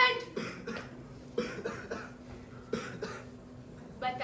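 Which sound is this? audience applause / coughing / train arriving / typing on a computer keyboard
coughing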